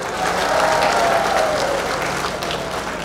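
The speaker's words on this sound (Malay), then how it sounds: "Sekali lagi tepukan untuk D.O. kita ni." A crowd applauds steadily at an official gathering in Teluk Intan, Malaysia, a dense wash of clapping that continues through the whole stretch.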